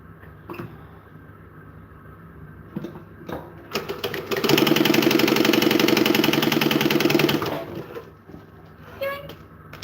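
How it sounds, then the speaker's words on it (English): A domestic sewing machine stitches a seam in green fabric at a steady fast rhythm for about four seconds, close and fairly loud, with quieter handling sounds and brief talk before and after. "Alright, let's sew this part."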